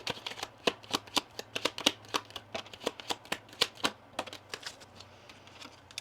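Kipper oracle cards being shuffled and drawn by hand, a rapid run of crisp close snaps and flicks in an uneven rhythm, with quieter handling toward the end.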